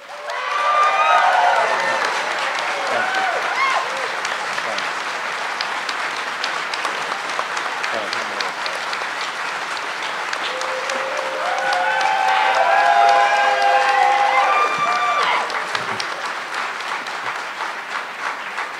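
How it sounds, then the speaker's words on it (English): Audience applause fills a hall at the close of a congressional debate, steady and sustained throughout, swelling louder toward the middle before easing, with a few cheers and murmured voices mixed into the crowd. "We appreciate the audience for holding your applause to the end as well"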